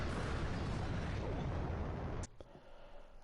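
Explosion in the Ace Combat 5 flight video game as a jet is struck by pulse cannons: a loud, sustained roaring blast that cuts off abruptly, followed by a faint crackling tail.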